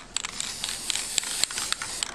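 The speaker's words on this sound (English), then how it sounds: "I start with a very light spray initially at first." Matte sealing spray goes onto small handmade craft magnets in quick, light hissing puffs with soft clicks of the nozzle, close and fairly loud, with no talk.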